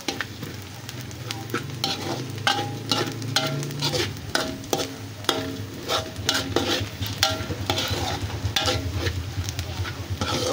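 Pork sisig with fried garlic stir-fried in a pan, a continuous close sizzle with frequent sharp clacks and scrapes of a spatula against the metal, no talking.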